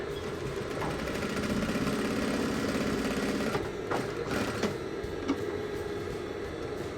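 A sewing machine stitches trousers with a hidden zipper, a steady mechanical whirring hum with a faster rattling burst early on, then a few pauses and clicks as the fabric is adjusted, close by and without talk.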